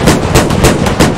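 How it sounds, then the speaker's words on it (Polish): Heavy booming blasts of a tank cannon in the military video game Squad, four loud shots in quick succession, close and dominating the sound. "słyszałem wystrzał z armaty czołgowej"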